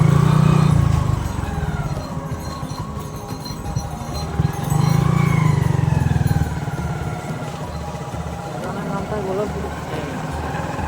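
A motor vehicle engine revving after a gear change while riding slowly along a village lane past mustard fields, loud and close, with the engine note surging and falling under wind rumble.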